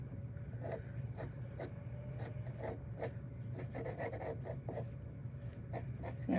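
Pencil sketching corn on paper, with close scratchy strokes in short repeated bursts and quick rasping scribbles, no voice.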